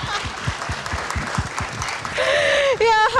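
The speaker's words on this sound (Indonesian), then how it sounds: "Tepuk tangan untuk Q&A malam ini." A studio audience claps for a talk show. Steady applause runs throughout, with a voice speaking over it and a rising musical tone near the end.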